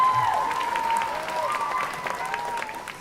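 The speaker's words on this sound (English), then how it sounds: "You can applaud that." A graduation ceremony audience claps steadily in a broad, continuous wash of applause, with a sustained tonal whistle or feedback-like ring riding over the clapping throughout.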